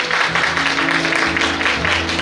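A wedding audience applauds the bride and groom in a dense, steady wash of clapping over background music.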